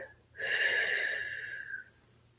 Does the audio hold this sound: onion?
no